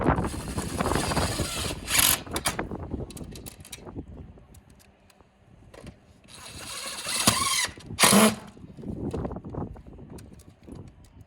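A power drill drives screws into metal roofing in short whirring bursts, several separate runs with pauses and clattering handling noises between them, fairly close.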